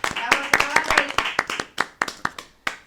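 Audience applause: a dozen or so distinct, loud hand claps in an uneven rhythm, close and sharp, with voices talking underneath.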